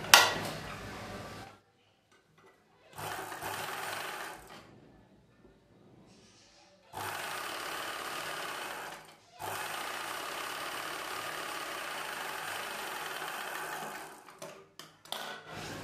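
A sewing machine stitches a belt onto the inside lining of a blouse in several separate bursts, each a close steady whir with quiet gaps between runs.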